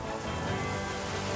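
Heavy unseasonal rain with stormy winds in Soygaon, Chhatrapati Sambhajinagar, a dense steady roar of rainfall, loud and uniform with no voices.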